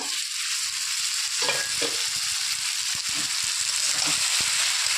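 Potato, cauliflower and spices sauté in a pan on low heat, a close, continuous sizzle with repeated spatula stirs and scrapes knocking through it at an uneven rhythm.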